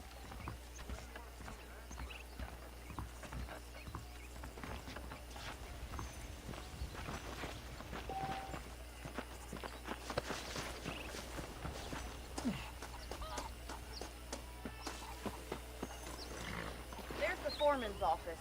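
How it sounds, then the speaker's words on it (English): Horse hooves clip-clop in the Red Dead Redemption video game, a run of soft, uneven hoof steps on dirt under quiet background ambience, fairly faint and close, with game dialogue spoken over them. "The horses are saddled up over here."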